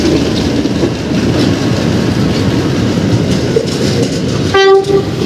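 A PNR train crossing Ramon Magsaysay Boulevard eastbound toward Tutuban, its steady rolling rumble and rail clatter loud and near, ending in a single sharp horn blast, with no talk.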